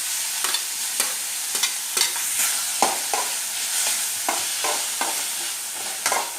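Burger filling of onion, tomato and masala powder sizzles on a hot tawa while a spatula scrapes and stirs it in frequent, uneven close strokes over a continuous frying crackle.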